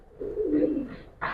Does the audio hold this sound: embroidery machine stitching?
no